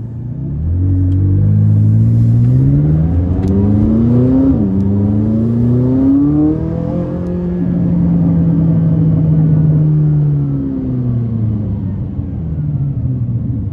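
A tuned 664-horsepower McLaren 570S engine drones loudly from inside the car while driving, rising and falling through smooth revs and gear changes in automatic mode, with a brief dip in pitch before climbing again, no talking over it.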